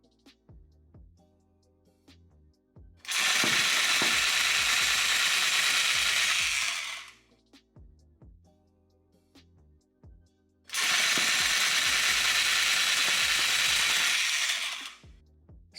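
A repaired tufting gun drives yarn into fabric in two sustained bursts of loud, dense mechanical buzzing, each about four seconds long, with quieter stretches of clicking and mechanical hum between them.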